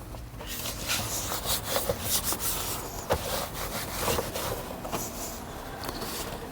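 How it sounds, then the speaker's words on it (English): A cloth rubbing and wiping over parts of a Skoda Rapid after a cabin air filter change, a close continuous scrubbing with uneven strokes and a few sharper scuffs, no talk. "Wipe everything off"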